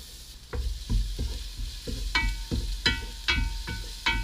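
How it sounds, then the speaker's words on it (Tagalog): Minced garlic sautéing in oil in a pan for pancit bihon guisado, with a steady sizzle under rhythmic scraping strokes of a spatula stirring every half second or so, close and fairly loud. "We will saute the garlic and then the onion"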